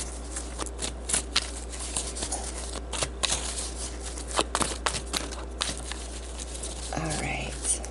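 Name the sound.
shuffling oracle cards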